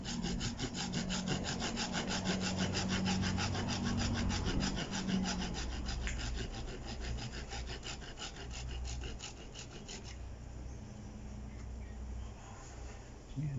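A hand saw cuts through a bougainvillea branch being prepared for bonsai grafting, with fast steady back-and-forth rasping strokes, close and clear, easing off toward the end.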